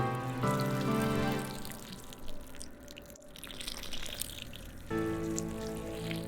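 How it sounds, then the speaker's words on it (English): Water poured from above onto freshly planted garlic in sewer-pipe planters, a steady splashing stream that runs continuously, thins briefly in the middle, then comes back strongly, close and alone. "All that's left is to water them."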